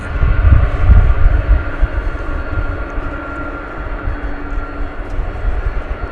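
McDonnell Douglas MD-11 airliner at DFW Airport, a loud broad engine roar that swells early and then holds as a steady rumble, with no talk over it.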